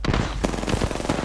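Heavy automatic weapon fire in the Apex Legends battle royale game, a dense continuous burst of rapid shots crackling loudly over the game's background noise.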